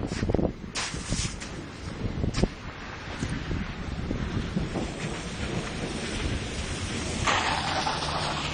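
Rain falling in a Bogotá street just after a hailstorm, a steady hiss with splashing and scattered sharp knocks, plus a louder gust of noise near the end.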